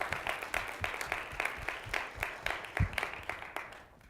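An audience at a Black History Month forum applauds, a dense, moderately loud clapping that continues steadily for a few seconds before tapering off at the end.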